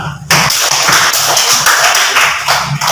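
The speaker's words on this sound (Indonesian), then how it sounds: "Oke, tepuk tangan untuk kita semua." Classroom group clapping together, loud close hand claps starting abruptly and continuing steadily for a few seconds.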